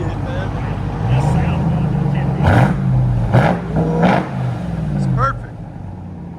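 Supercharged 6.2L V8 in a RAM TRX revs several times through SLP Loudmouth exhaust, each rise a loud roaring sweep over a deep idle burble, with someone speaking briefly over it.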